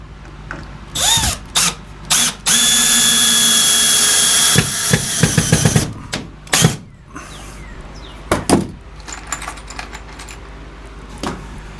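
Power drill driving screws straight into a wall while building a bench, several close, loud whirring bursts of varying length with the longest run near the middle, followed by scattered clanks and handling knocks.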